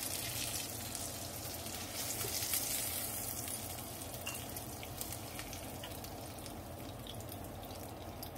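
Salted fish fries in oil in a pan with a steady, close hiss and crackle that holds level throughout and has no talking over it.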